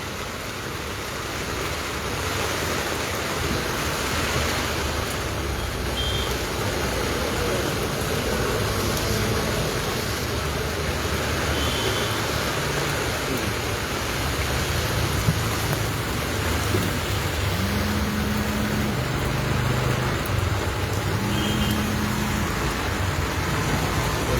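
Steady heavy rain pours down continuously at close range, a dense unbroken hiss with a few faint tones in the background and no talking.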